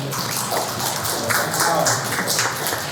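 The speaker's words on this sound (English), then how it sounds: "so you can clap for that" An audience at a Baltimore panel on Black art and identity claps in a steady, even wash of applause with no talk over it.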